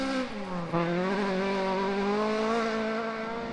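A Ford Escort rally car on a Dukeries Rally special stage. The engine note is loud and close, rising and falling with harmonics through gear changes, and it climbs steadily in pitch as the car accelerates hard.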